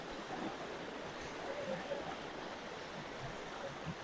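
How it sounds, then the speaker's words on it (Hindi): Fast-flowing orange flood water rushes past in a steady broadband wash, moderately loud and unbroken, with no clear speech over it. "पानी के स्पीड जाते देखिए"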